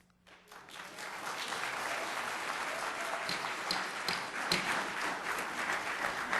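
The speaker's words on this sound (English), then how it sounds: "I would ask if the public could refrain from clapping and from making noises at a public hearing" Audience members at a city council public hearing break into applause that swells quickly from quiet and continues as a steady, moderately loud patter of clapping.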